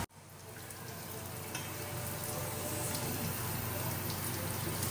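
Milkfish (bangus) frying in hot oil gives a steady, close sizzle and crackle that starts abruptly and grows slightly denser and louder over a few seconds.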